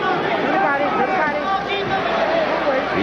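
Crowd of more than 12,000 at a 1980 boxing match, a steady roaring hubbub beneath a commentator talking throughout.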